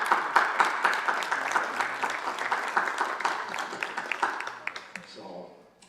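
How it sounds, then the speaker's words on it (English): An audience at a high school commencement claps for parents and families, dense applause that tapers off over several seconds, with a few scattered voices in the crowd. "So if you actually could clap for your parents and families right now"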